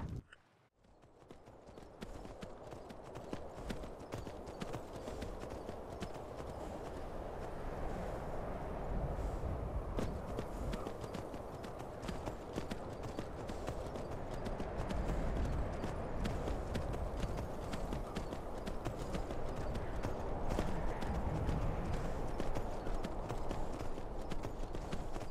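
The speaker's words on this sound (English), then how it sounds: "Riding a horse through a swamp." Continuous rhythmic clopping of horse hooves at a steady gait through a swamp in Skyrim Special Edition, with a gritty ambient wash underneath, fairly even in loudness throughout.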